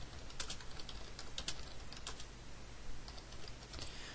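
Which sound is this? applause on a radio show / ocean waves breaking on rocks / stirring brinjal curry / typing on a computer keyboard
typing on a computer keyboard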